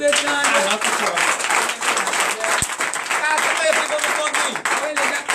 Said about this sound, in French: je vous demande, frères et sœurs en Christ, de donner une vive acclamation à notre Dieu